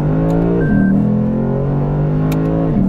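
Lexus RC F V8 engine revving loud and close, a steady deep roar that drops slightly in pitch about two-thirds of a second in, then holds before a brief rise near the end.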